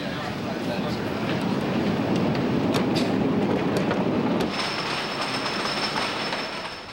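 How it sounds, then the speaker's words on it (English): An amusement park ride train at Hersheypark rolls around its track on a first test run, giving a loud, steady rumble of wheels with clattering and squealing that builds midway and then eases off. "tell me what's happening as the train goes around a track for the first time"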